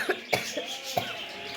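A woman coughs in a quiet room: several short, dry bursts in quick succession, close and moderately loud, with no talking.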